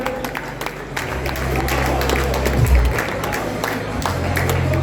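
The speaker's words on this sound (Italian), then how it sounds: "Applausi anche per Tom" Audience applause at an amateur boxing match in Bolzano fills the hall, a crowd clapping steadily under a ring announcer's voice with a low hum beneath.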